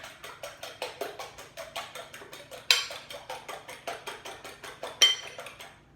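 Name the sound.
fork whisking eggs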